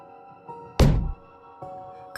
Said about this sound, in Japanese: 鏡の中からコツコツっとガラスを叩く音がした。